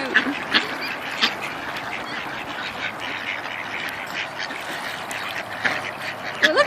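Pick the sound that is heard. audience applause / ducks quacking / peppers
ducks quacking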